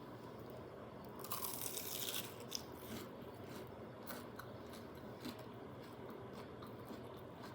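Biting into a fried mac and cheese ball gives a crisp crunch of the fried crust, then soft chewing close to the mic, faint and without talking.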